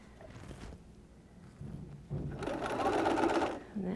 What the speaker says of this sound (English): And then back stitch to hold it in place.